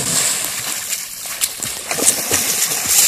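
People swimming and playing in a lake on a summer fishing trip, with close, irregular splashes and sloshing water in a quick scattered rhythm and no talk.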